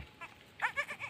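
A large mother goat bleats in a few short, wavering calls close by, the cries rising after a brief softer sound and fading between breaths.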